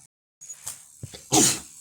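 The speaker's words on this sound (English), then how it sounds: "That's me, I just sneezed." A single sharp sneeze bursts out near the end, loud and close, after a few quieter breathy sounds.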